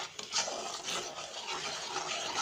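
Zlabia batter being stirred in a glass, giving a continuous close scraping and rubbing sound with steady, even strokes at moderate volume and no talking.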